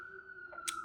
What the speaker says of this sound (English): let's let the sirens pass